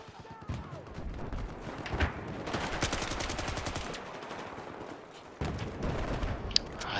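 Nail gun weapon firing in an online shooter game with teams holding flags, heard as a long run of rapid repeated shots that drops out briefly, then resumes with other game sounds.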